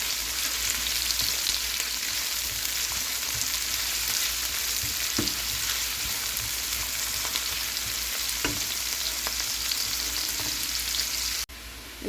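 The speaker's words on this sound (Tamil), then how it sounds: "இது ஒரு 2 நிமிஷம் வதக்க போகிறேன்" Finely chopped white onion and garlic sautéing in a pan for pasta, a steady hissing sizzle held for several seconds with a few faint stirring taps, close and even, with no talking.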